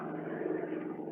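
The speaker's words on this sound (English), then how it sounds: "better sit here where we can hear that outboard motor" An outboard motor sound effect from a 1947 radio drama drones as a steady, faint, buzzing hum with no voices over it.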